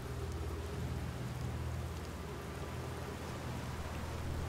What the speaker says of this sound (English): the horizontal rain is also pretty awesome